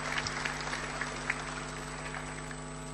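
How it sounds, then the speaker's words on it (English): Applause from the audience at a SADC summit, a steady patter of clapping with no voices over it. "Applause as a welcome to the SADC family."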